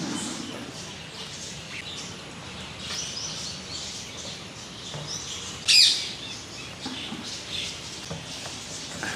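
Parrots and other birds in an enclosure cage at a district science centre, chirping and calling in scattered bursts, with one brief louder squawk partway through over a quiet, busy background.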